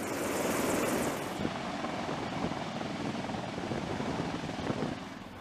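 A helicopter drones steadily and loudly, its rotor and engine noise filling the clip without a break.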